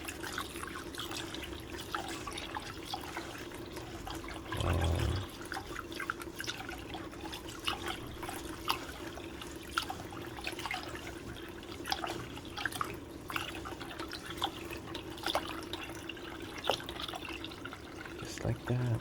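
Tyent alkaline water runs and splashes while rice is rinsed in a bowl, a steady close trickle with small drips and sloshes. A brief heavier pour comes early on.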